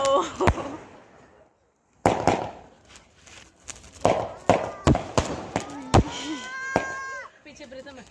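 Sharp Diwali firecracker bangs pop irregularly at a college celebration, some loud and close, mixed with crackling bursts, excited voices and a rising whistle.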